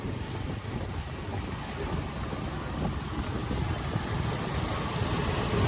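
A motorbike engine runs continuously during a coastal ride near Ratnagiri, a steady low rumble with wind noise, fairly quiet and without talk.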